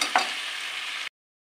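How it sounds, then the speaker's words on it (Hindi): Spices (turmeric, chili powder, coriander powder and salt) being stirred into potato and capsicum in a pan, a steady close scraping and sizzling that runs for about a second before cutting off. "डाल देंगे मसाले, हल्दी पाउडर, मिर्ची पाउडर, धनिया पाउडर और नमक, अच्छे से मिक्स कर देंगे"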